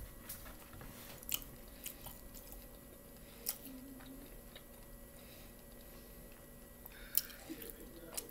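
Close, quiet chewing and biting on honey BBQ chicken, with soft wet squishes and occasional small crunchy clicks scattered through the clip, no talking.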